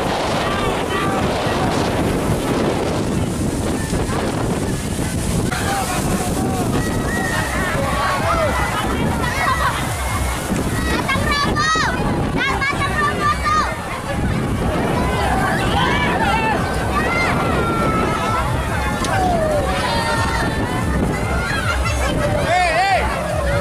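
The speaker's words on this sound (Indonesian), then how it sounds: "Angin kencang sekali." Strong wind gusting across Lake Sipin at a crowded tourist spot, a loud, continuous roar buffeting the microphone, with crowd babble and voices beneath it throughout.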